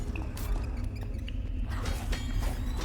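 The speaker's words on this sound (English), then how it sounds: "Oh, that's the sound of battle." Busy, cluttered battle audio from the game Hammerting, with clashing hits, rustling and scattered sharp effects over a constant low rumble, sounding like a chaotic fight.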